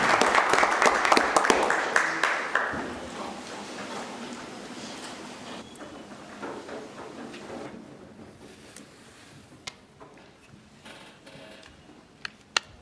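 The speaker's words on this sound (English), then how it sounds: "Let's give her another round of applause." Audience applause at a Nash County commissioners' meeting honoring a retiree, a dense burst of clapping that fades out within a few seconds, leaving sparse isolated claps and room noise.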